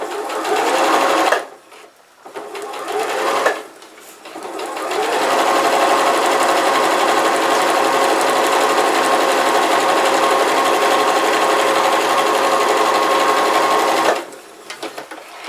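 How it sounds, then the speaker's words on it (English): A sewing machine runs a seam through fabric, first in two short starts, then in one long steady whirring stretch of rapid stitching, loud and close, before stopping. "line up the edge of your fabric with the 1/2 inch marker that I told you about in the very first introduction video, and then we're going to go ahead and sew"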